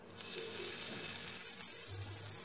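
Cumin, a pinch of asafoetida and chopped ginger sizzle steadily in hot oil while an aloo filling is started, a continuous bright frying hiss that holds at an even level throughout.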